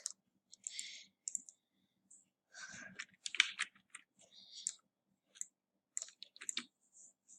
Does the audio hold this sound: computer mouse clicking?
yes